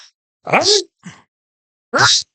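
A person imitates loud sneezes, two sharp explosive bursts with a brief breathy sound in between.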